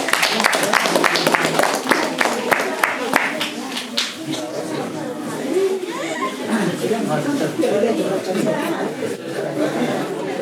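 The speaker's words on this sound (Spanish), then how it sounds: "Voto de aplauso." Applause from the crowd at a carnival rehearsal, a burst of clapping at first that thins out under lively chatter and children's voices.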